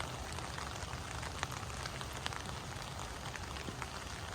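Steady rain falls in a garden among privet and blackberry bushes, a constant close hiss of drops pattering on leaves and surfaces, with no voices.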